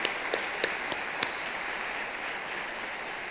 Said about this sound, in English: Again, a big round of applause for all of our distinguished new educators.